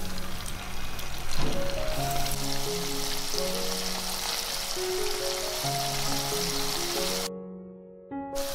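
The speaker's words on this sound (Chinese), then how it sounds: "然后把虾放到油锅里炸至金黄" Shrimp dusted with a thin coat of starch deep-fry in a wok of hot oil for Cantonese pineapple shrimp balls, giving a steady, even sizzle under soft melodic background music that cuts out briefly near the end.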